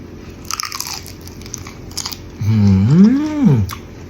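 Crisp bites into crunchy fried shrimp coated in tamarind sauce: a few close crunches, then a long rising and falling hum of enjoyment from the eater.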